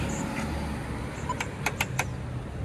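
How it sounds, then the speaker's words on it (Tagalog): Steady road traffic rumbles heard from inside a vehicle, a constant broadband wash with several quick clicking ticks near the end. "traffic."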